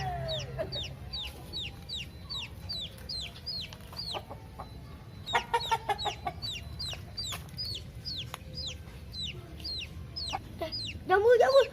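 A contest rooster clucks in rapid, repeated short bursts at close range, forming steady rhythmic runs of sharp calls over a low background hum, with a louder squawk at the end.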